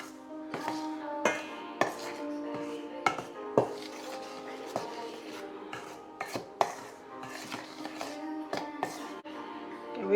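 Cake ingredients mixed in a bowl, with repeated clinks and taps of a utensil against the bowl at an irregular rhythm over a faint continuous tonal background, close and moderately quiet.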